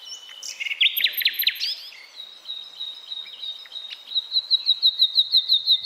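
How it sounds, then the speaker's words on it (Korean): Nightingale song plays from a recording: bright, varied whistles and trills, then a rapid series of rhythmic repeated chirps building in loudness, clear and close with no talk. "저도 유튜브에서 찾아봤더니 나이팅게일 새의 소리예요"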